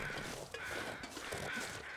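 Ravens caw in The Long Dark's snowy wilderness, a few hoarse calls ringing out at a middle distance over a steady wind-like background hiss.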